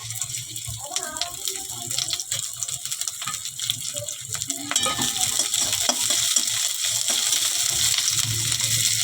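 Steady frying sizzle of onion, ginger, garlic, green chili and whole spices like cardamom, cloves, cinnamon and peppercorns in a pan, with stirring scrapes, growing louder and denser toward the end, faint talk early on.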